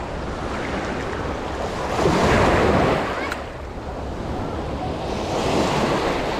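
Ocean waves surge and break nearby on the shore at Canlocani, Dapitan City, a loud rushing swell that builds, crashes and recedes, with wind buffeting the microphone.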